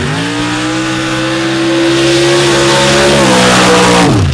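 A mud bog truck charges through a mud pit at a mud slinging event, its engine roaring loud and close with a rising, sustained wail that climbs and holds before easing off at the end.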